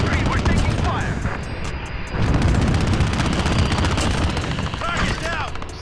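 Heavy automatic gunfire from a VTOL aircraft killstreak in Call of Duty Modern Warfare, a loud continuous rattle of rapid shots with booming impacts throughout, while someone talks over it.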